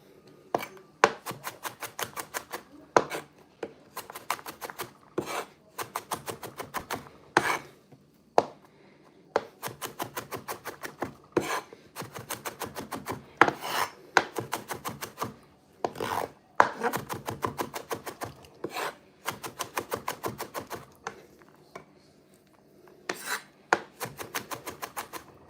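A knife minces garlic on a board while curry chicken is prepared Trinidad-style: quick rattling bursts of chopping strokes, close and crisp, broken by short pauses throughout, with no talking.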